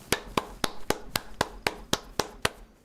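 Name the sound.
character clapping emote in a video game (DayZ)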